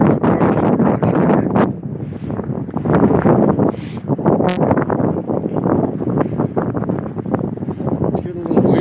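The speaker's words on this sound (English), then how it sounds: "It's getting a little windy over here." Wind buffeting a microphone on a city walk along Hudson Street: steady, loud rumbling gusts that swell and fade throughout, with a voice talking on top and faint street noise underneath.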